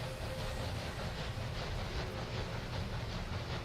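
Passenger trains pull into a station in the Railway Empire game, a steady rolling rumble with faint clattering wheels and a soft hiss that carries evenly throughout.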